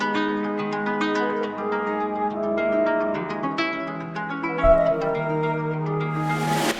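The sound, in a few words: melody sample loop for trap beat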